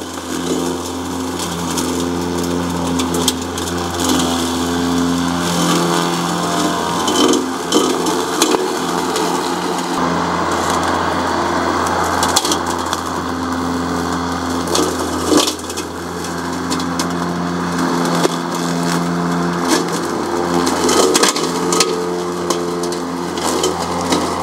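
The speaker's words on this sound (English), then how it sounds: "This is the first time I've ever had a robot mower that can get in here and cut this grass." A heavy-duty robot lawn mower runs with its sensors off, cutting tall grass in a tight spot with a steady, loud motor drone and dense crunching, splintering blade noise throughout.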